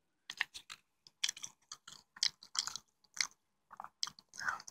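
Someone eating chicken tenders up close, with crisp, crunchy bites and wet chewing in irregular bursts separated by brief silences.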